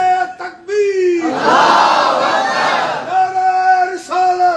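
At a majlis, a crowd bursts into loud chanting of religious slogans. A single voice leads off, the massed response follows for about two seconds, and then the lone voice carries on.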